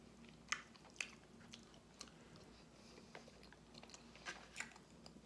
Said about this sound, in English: Crunchy sushi.